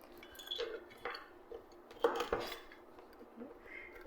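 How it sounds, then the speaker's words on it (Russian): A knife roughly chops a small handful of walnuts on a board, giving soft, irregular knocks and light crunches, close and fairly quiet. "мы их нарезаем немножко крупненько, вот так вот"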